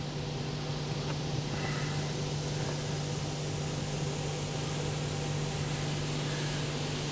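Steady, dense roar of high-pressure water jets in a 2019 Washtec SoftCare2 Pro car wash, heard from inside the car as a constant broadband hiss over a low machinery hum, with no talk.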